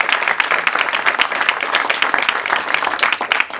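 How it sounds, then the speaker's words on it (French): Audience at a political debate in Namur applauds an honoree, a loud, dense patter of many clapping hands that holds steady throughout, with faint crowd murmur underneath. "Donc on peut l'applaudir."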